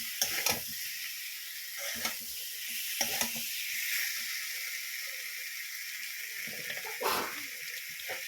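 Potatoes fry for a fish curry with a steady bright sizzle, and a spoon scrapes and stirs them in the pan in several short bursts.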